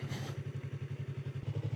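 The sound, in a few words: motorcycle engine while riding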